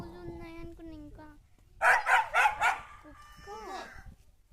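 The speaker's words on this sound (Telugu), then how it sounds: "ఓకే, కుక్క కూడా ఉంది" A dog on a farm with cows, a calf and chickens barks four times in quick succession, loud and fairly close, between stretches of a person talking.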